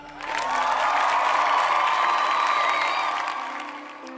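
Audience applause and cheering, a dense swell of clapping with whoops that rises quickly, holds steady and fades slightly toward the end, crowd-wide and moderately loud.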